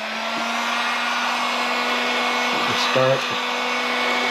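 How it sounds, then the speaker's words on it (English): A heat gun shrinks shrink wrap onto a tumbler, giving a steady, close blowing hum with a faint tonal whine that runs unbroken throughout, with a brief spoken word partway through. "take a heat gun,"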